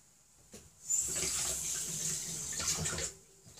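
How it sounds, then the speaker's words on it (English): Water from a kitchen tap running steadily for a few seconds over fingers being rinsed during cookie baking, a close, hissing splash that starts and stops cleanly. "Time to wash my fingers a little bit."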